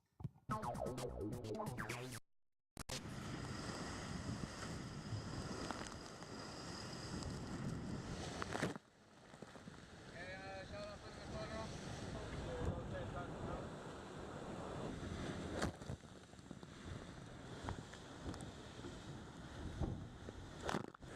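Wind and rushing water roar steadily as the racing sailboat Groupama 4 cuts fast through waves, with gusts buffeting the microphone and a brief drop-out near the start.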